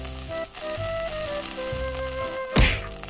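Meat sizzles on a grill in the video game Yakiniku Simulator, a steady close frying hiss over background music, with a sharp clatter near the end.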